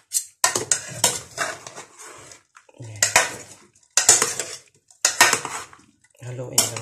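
Spoon scraping and clinking against a bowl while macaroni salad is stirred, in bursts of several seconds with short pauses between, close and fairly loud.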